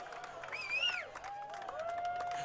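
A soccer crowd at an ABQ Sol FC versus Colorado Rapids U23 match roars after a nutmeg, a steady wash of cheering and clapping with a sliding whistle-like tone rising and falling above it.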